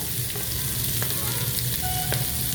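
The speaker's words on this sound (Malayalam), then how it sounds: "ഇത് ഒരു ഗോൾഡൻ ബ്രൗൺ ആകുന്നിടം വരെ ഇത് വഴറ്റുക." Two medium chopped onions sizzling in a hot pan, a steady even frying hiss with a few faint utensil taps, close and continuous with no voices.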